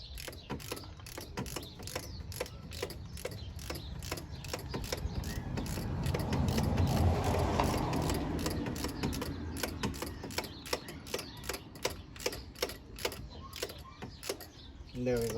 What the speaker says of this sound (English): I'm going to use a 14mm socket with the flex hit ratchet again